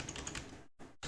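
Computer keyboard arrow keys pressed in a few quick, soft taps close by, each followed by brief silence, with no talking.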